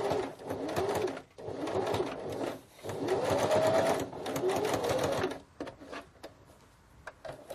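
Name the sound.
sewing machine stitching a zipper pouch lining closed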